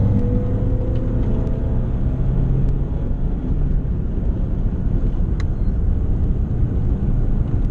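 A car speeds up on a training circuit during a driving lesson, its engine a steady close rumble with rising tonal whine over constant road and wind noise, no voices.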